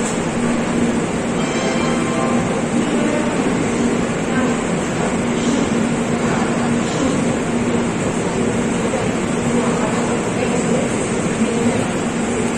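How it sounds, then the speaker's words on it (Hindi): Rajdhani Express train pulling out of Kanpur railway station, a steady, loud rolling rumble of wheels and carriages with a low mechanical hum that stays constant throughout, no talk heard. "ट्रेन प्रस्थान करती है कानपुर के रेलवे स्टेशन से"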